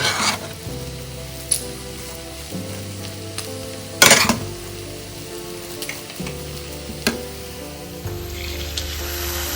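Semolina and cardamom powder being stirred in a pan, with a steady sizzle of frying under a spoon scraping and clinking at irregular moments, the loudest knock about midway, with no voices.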